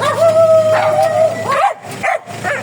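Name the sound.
dogs barking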